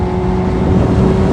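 A 2003 Suzuki GSXR600 sport bike accelerating hard on a highway, a steady loud engine drone with wind rush running through the whole short stretch, no voices.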